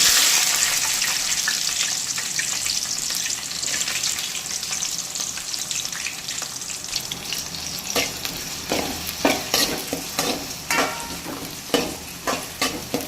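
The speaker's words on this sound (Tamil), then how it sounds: "இதை நல்லா கிளறி விட்டுக்கலாம். வெங்காயம் வந்து நல்லா வதங்கி வரட்டும், நல்லா பொன்னிறமாக" Small onions sautéing in hot oil with fenugreek and fennel seeds for a Tamil crab curry hiss steadily, then a spatula scrapes and stirs in quick rhythmic strokes that grow louder toward the end.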